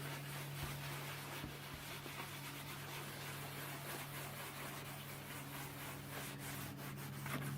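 Cloudy plastic car headlight lens rubbed with toothpaste in circular motions, a faint, close, continuous rasping scrub over a low steady hum.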